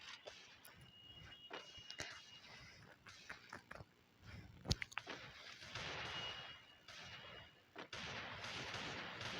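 Gunfire from a suppressed MP40 in the Free Fire mobile game, heard as scattered sharp shots and bursts over a busy, rumbling game soundscape, with one loud crack near the middle and no talking.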